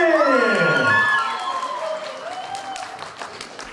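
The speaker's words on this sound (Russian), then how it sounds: "Аплодисменты!" Applause and cheering for newlyweds at a wedding celebration rise over a host's announcement, loud at first and then tapering into scattered clapping and crowd noise, with voices mixed in.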